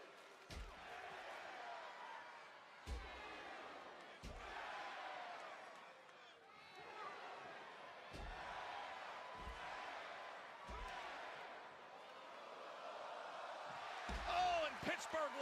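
A wrestling arena crowd in Pittsburgh roars and cheers continuously at a distance, with sharp slam-like thuds from the ring punctuating the noise every few seconds.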